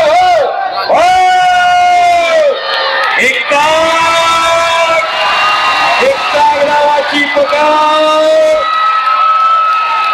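A large crowd at a wrestling bout held for Sharad Pawar's 84th birthday shouts, whoops and cheers loudly in waves. A voice speaks over the din.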